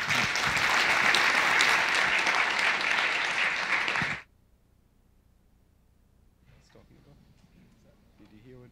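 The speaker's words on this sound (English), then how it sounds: "A round of applause," Audience applause at a Linux networking conference session, a dense burst of clapping for about four seconds that cuts off sharply, followed by near silence and a few faint voices talking.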